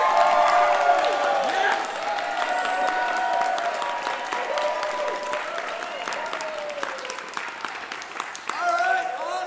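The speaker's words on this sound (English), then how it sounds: "we want to give a big, rowdy round of applause" Loud, dense applause and cheering from a show audience at an anniversary stage show, sustained throughout with scattered whoops and a single shouted voice rising over the crowd.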